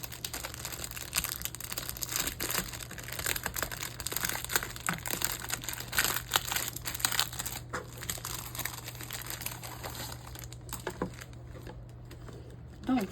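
Diamond painting kit packaging being opened and unwrapped, with steady plastic crinkling and rustling throughout, close and fairly loud, over a constant low hum.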